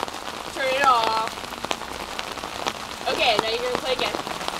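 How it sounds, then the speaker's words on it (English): Hail mixed with rain falls outdoors during a basketball game, a steady patter of drops striking surfaces close by, with bright voices calling out over it at moments. "It's hailing out. Literally, there's ice on my arm."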